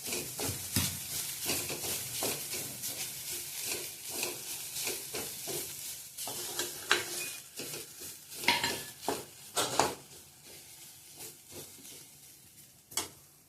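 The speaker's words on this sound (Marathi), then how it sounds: "गॅस स्लोच ठेवायचा आहे आणि भाजून घेऊया। हलकसं तेल सोडायचं आहे।" Grated coconut roasting in a little oil on low heat: a quiet, continuous sizzle broken by repeated scraping and clinking of a utensil against the pan, with a few sharper knocks later.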